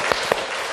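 A church congregation claps during a Sunday worship service, a short burst of dense hand clapping that fills the room evenly for under a second.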